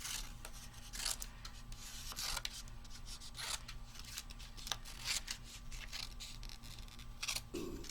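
Scissors snipping through paper card during die-cut card making, a run of close, crisp cutting strokes and rustling handling noise with a steady hum underneath, no talking.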